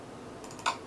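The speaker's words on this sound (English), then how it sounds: "It sounds like it gets loud just from these clicks" A few quick, crisp computer mouse clicks sound close up in a home recording studio while someone clicks through folders, faint and alone.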